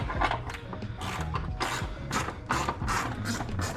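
A ratchet wrench clicks in uneven bursts while working under the hood of a Ford Mustang, the rapid pawl clicks close and moderately quiet, with no talking.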